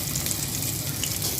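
Fish, likely boal-type river fish, sliding into hot oil in a pan for frying before cooking with tomato, a dense continuous hiss and sizzle close up without talk.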